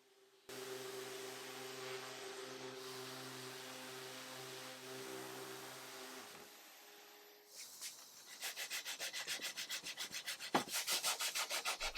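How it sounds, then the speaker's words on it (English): Sanding cured epoxy smooth on an antique marquetry table, a steady close rubbing rasp that runs for several seconds, then gives way to a faster rhythmic back-and-forth scrubbing toward the end. "I sanded it smooth"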